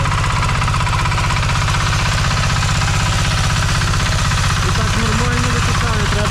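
A Kentavr MB 2060D walk-behind tractor's diesel engine runs loud and close with a rapid steady knocking chug while leaking oil, and a person talks over the engine noise.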